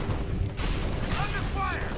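A mounted gun fires steadily in Halo: Spartan Assault under a dense battle din, with rapid repeating shots and a voice speaking over the action.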